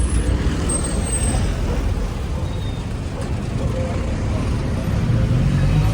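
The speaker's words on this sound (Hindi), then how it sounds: "शायद नवदीप पाजी आ चुके हैं टैक्सी लेके, पहुंचने ही वाले हैं।" A taxi car pulls up on a street in Peru, its engine and tire noise forming a steady, loud rumble with traffic around it, while a voice talks over the scene.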